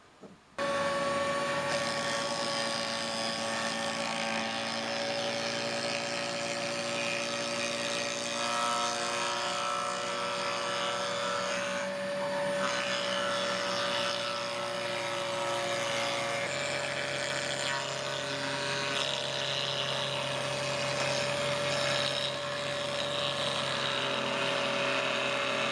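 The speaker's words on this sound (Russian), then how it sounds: "Итак, друзья, мы сняли фаски" A power tool, likely a router, cuts chamfers on an oak barrel head with a loud, steady whine and grinding hum that runs almost unbroken for over twenty seconds, with slight shifts in pitch as the cut progresses.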